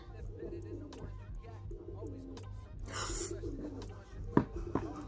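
Doves coo softly in the background, with repeated low calls under steady ambient noise and brief outdoor sounds.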